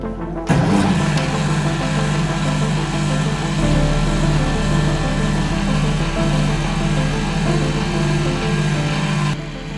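A motor on a Liberty Engine generator starts abruptly and then runs at a steady, loud mechanical hum with a strong tonal whine and a constant low drone before cutting off near the end, no talk.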